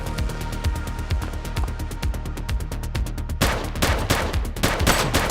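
Rapid gunfire from The Precinct, a police video game, with dense repeated shots in quick bursts that grow louder and more intense partway through, without pause.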